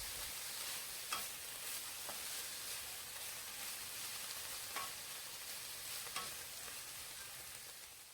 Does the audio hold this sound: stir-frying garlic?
yes